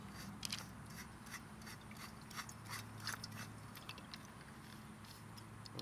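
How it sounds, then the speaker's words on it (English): The pump of a BSR 8 multi fuel stove is screwed into its fuel tank, giving faint, close ratcheting clicks and small scraping turns over a steady low background hum. "Go ahead and insert it into the tank and screw it on."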